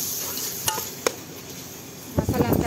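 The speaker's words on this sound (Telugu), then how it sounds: "ఒకసారి తిప్పుకొని మూత పెట్టుకుంటాను ఒక రెండు మూడు నిమిషాలు" Mutton biryani masala for Dindigul thalappakatti biryani is stirred in a pot, giving a low continuous sizzle with a couple of sharp metallic clinks early on, then a louder burst of scraping and clatter near the end.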